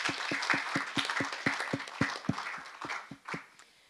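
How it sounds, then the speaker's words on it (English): Conference audience applauding the organizers, a crisp run of distinct, fairly evenly spaced claps from a small group, tapering off toward the end. "Shall we give a round of applause for the organizers?"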